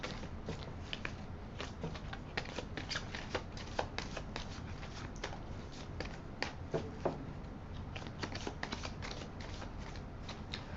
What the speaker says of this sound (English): Now, let's pull a Golden Nostradamus card.